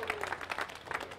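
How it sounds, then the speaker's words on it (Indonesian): Spectators at a bowling tournament at Diamond Bowl, Johor Bahru, clap for the players: a brief burst of crowd applause, moderately loud, with faint voices mixed in. "Kita berikan tepukan lagi sekali."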